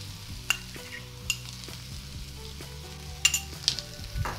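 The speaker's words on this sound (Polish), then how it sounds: "I również delikatnie podsmażam" Vegetables with tomato paste fry gently in a pan, a low quiet sizzle broken by occasional clinks and scrapes of a utensil, close by, with faint tonal hum in the background.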